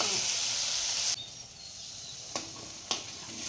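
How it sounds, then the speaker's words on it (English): Spice paste hits hot oil for a pavo fish dish, giving a loud sizzling burst that abruptly drops to a quieter simmering hiss, with two short sharp clatters following. "now I'm throwing this wonderful paste into the oil"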